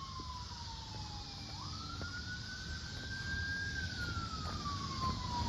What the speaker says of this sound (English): That's an ambulance I do here.